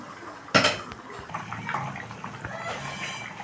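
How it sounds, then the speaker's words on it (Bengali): A lid comes off a pot of fish curry with a sharp metallic clank, then quieter rattling and a faint bubbling simmer continue beneath. "আমি ঢাকাটাকে খুলে নেব"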